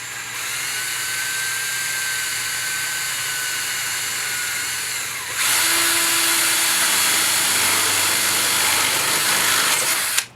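A power drill whines steadily as it bores a temperature probe hole through the thin sheet metal of a flour sifter, its pitch shifting and growing harsher partway through before cutting off.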